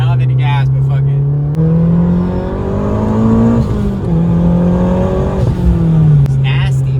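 A turbocharged Mazda Speed3 accelerates hard, its engine note rising through the gears with shifts and turbo whoosh, loud and close from inside the car.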